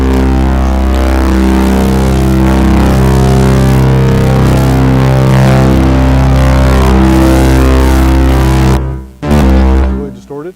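Mini synth on a heavily distorted preset at a live pub session, a very loud, buzzing sustained tone with thick low drone, cutting out abruptly near the end.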